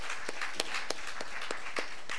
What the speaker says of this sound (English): let us give the students a round of applause for their efforts